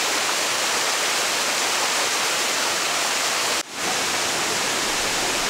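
A waterfall in a valley in Seochon, Jongno, central Seoul, seen from a bridge, pours out a constant loud rushing roar. The roar briefly dips once, then carries on alone.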